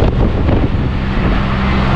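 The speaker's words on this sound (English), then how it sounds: "is it cold and windy" Strong, cold mountain wind buffets the microphone on a 2020 Can-Am Spyder RT Limited three-wheeled motorcycle ride, a loud continuous roaring rush with no talking.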